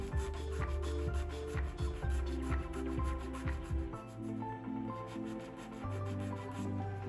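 A sanding twig rubs in quick repeated back-and-forth strokes, a close rasping scrape that slows into longer, steadier passes.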